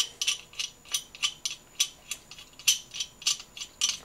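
Socket ratchet clicking in quick, even bursts while tightening the nut on a CY 23cc engine flywheel, about a dozen crisp close-up clicks with no talk.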